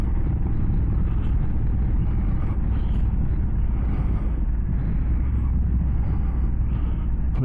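A 2023 Honda Africa Twin CRF1100L DCT Adventure Sports motorcycle on the move, with a constant, loud low engine rumble and wind roar throughout and no clear gear changes standing out.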